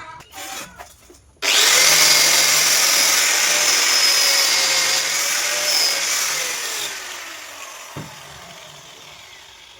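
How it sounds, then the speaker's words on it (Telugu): Power polishing tool with a white polishing wheel buffing a steel window frame: a loud, steady close-up whine that starts abruptly and runs continuously, easing slightly near the end. "ఈ వైట్ వీల్తో పాలిష్ చేసి సబ్తో ఈ విధంగా రాసి మనం పాలిష్ చేస్తే"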